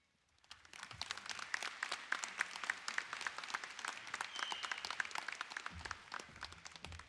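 An audience at a high school graduation ceremony applauding after the Pledge of Allegiance, steady even clapping from a large crowd that starts abruptly and carries on without talk, slightly distant and reverberant.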